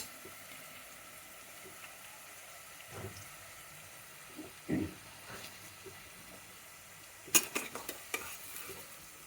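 Onions stirred into garam masala in a pan for bagara rice, with faint sizzling under soft scraping and stirring knocks, a few sharper clatters near the end, no talk.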